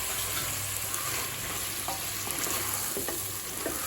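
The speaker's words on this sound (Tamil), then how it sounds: "இப்போ மிளகாத்தூள் வாசனை போக 1 நிமிஷம் வரைக்கும் நல்லா வதக்கி வச்சுங்க" Chili powder masala sautés in a pan for mushroom biryani, a steady close sizzle with occasional scrapes and stirring clinks, no one speaking.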